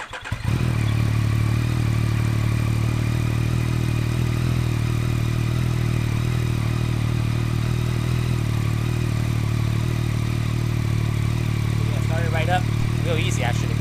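A Yamaha XSR900 motorcycle fitted with an Akrapovic exhaust cranks, fires up and settles into a steady, deep idle that stays loud and close throughout, with brief voice sounds near the end.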